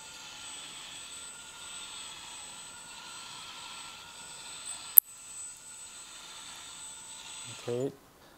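A 1/14 scale orange XDRC Liebherr 945 RC metal hydraulic excavator swings slowly, giving a steady high electric whine with a sharp click near the middle and a short low squeal as it stops.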